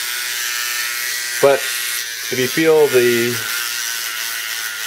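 Battery-powered Touch N Brush electric toothbrush running, a steady high buzzing whine that holds throughout, with someone speaking briefly over it.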